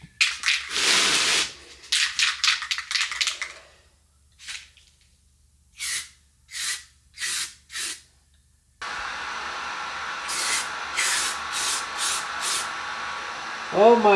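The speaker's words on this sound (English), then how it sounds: "let's start spraying some primer" An aerosol primer can hisses in several bursts, first long, then short, near and loud, as primer is sprayed onto a jet ski, with steady background noise in the later part.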